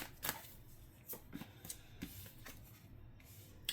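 Tarot cards being shuffled and drawn by hand at close range, soft quiet riffles and slaps of card stock in irregular bursts, with no talking.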